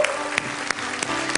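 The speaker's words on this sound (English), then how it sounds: "Would you give them a round of applause?" A church congregation claps in a steady rhythm, sharp hand claps landing about three times a second over a humming, tonal musical backdrop.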